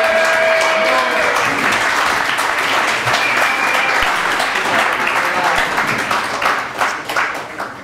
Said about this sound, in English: Can we start by having a round of applause for the fantastic organisation and Mark of this evening?